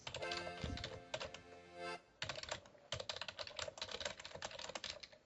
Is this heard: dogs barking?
no